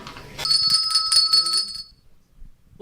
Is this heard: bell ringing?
yes